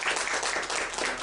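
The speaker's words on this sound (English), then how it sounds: "Please give an applause for our presentations." Seminar audience applauding after presentations at a conference on regional cooperation in Asia, a brief, dense burst of many hands clapping, loud and even throughout.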